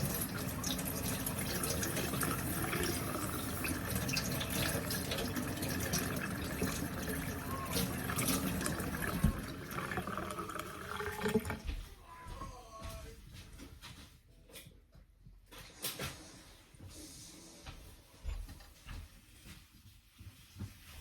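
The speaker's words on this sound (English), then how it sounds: "I'm going to take that back under my running water and clean it off really, really, really, really well" Running tap water rinses a cleaned implement under the faucet, a steady loud hiss and splash for about eleven seconds before cutting to quieter sporadic drips and handling sounds.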